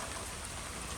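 Rain falls steadily on a Klean Gutter guard and roof, making a dense, even patter that fills the whole second with no voices.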